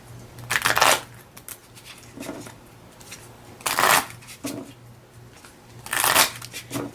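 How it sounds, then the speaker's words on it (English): Pokemon trading cards are riffled in three separate bursts, each a crisp fluttering rush, with quieter pauses between them. "Go ahead and shuffle up really well."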